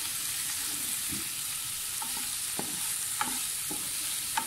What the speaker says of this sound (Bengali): আমি এটাকে মিডিয়াম আঁচে ভেজে নিচ্ছি, মিডিয়াম আঁচে, যাতে পেঁয়াজের র ফ্লেভারটা চলে যায়